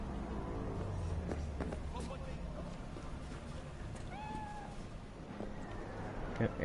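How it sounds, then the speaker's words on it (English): A cat meows a few times in the video game Cyberpunk 2077, short rising cries over a busy background of game ambience and low music. "Oh, there's a kitty."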